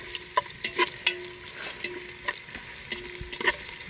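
Ginger frying in a pan for tinola, with a steady sizzle broken by several clanking stirs of a metal spatula against the pan, close and fairly loud.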